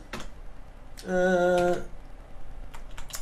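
Keys on a computer keyboard are pressed and Enter is hit while working in PowerShell, with a few close, crisp clicks around a brief steady tone.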